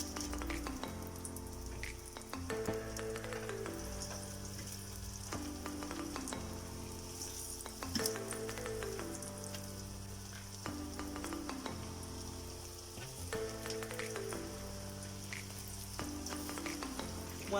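Chicken nuggets frying in hot oil in a home kitchen, a steady crackling sizzle with bubbling pops, heard close and alone while occasional clinks from turning the pieces punctuate the frying.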